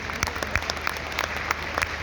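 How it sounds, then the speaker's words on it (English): Audience at a closing ceremony applauding an honoured speaker, dense steady clapping from many hands with sharper individual claps popping out, fairly close and continuous throughout. "A big clap"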